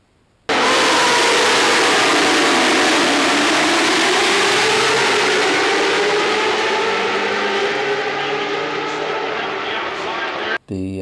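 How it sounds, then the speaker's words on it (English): A 2013 MotoGP prototype racing motorcycle of well over 250 horsepower screams past on a long straight, its loud exhaust howl bursting in abruptly and holding steady at full volume before cutting off sharply. "The exhaust sound is very different from that of the 250cc."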